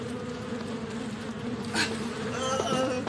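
A swarm of around 100,000 bees surrounding an emergency vehicle with lights and sirens, a continuous low droning buzz heard faintly and steadily, with a brief brighter burst partway through.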